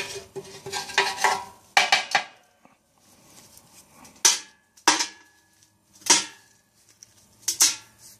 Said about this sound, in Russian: Сейчас нужно пробежаться магнитом, собрать все гвозди, которые тут в нишах лежат.